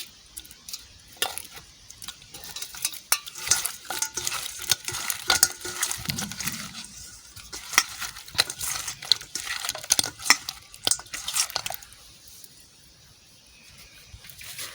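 Tilapia fish fry in hot oil with a continuous sizzle. Busy scraping and clatter from stirring in the pan sit over it, then ease off toward the end.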